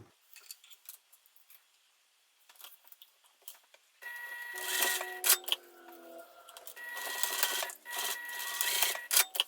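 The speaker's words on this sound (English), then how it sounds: "So let's sew with the seam allowance given in the pattern." Sewing machine stitching a bag seam for a pack with webbing, starting with soft clicks and handling, then running in loud, rapid bursts of mechanical whirring stitches with brief pauses, close and without speech.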